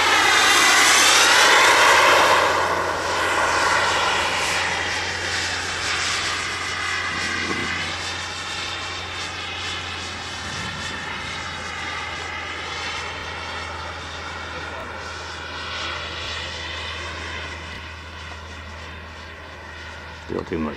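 A Boomerang Nano RC jet powered by a Kingtech K60G turbine flies past with a loud, sweeping turbine whine that fades gradually as it moves away, while people talk throughout.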